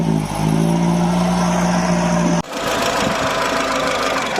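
A classic car pulled from a lock-up runs close by with a rough, loud engine drone, then the sound shifts abruptly halfway through into a noisier, broadband rumble as it drives off.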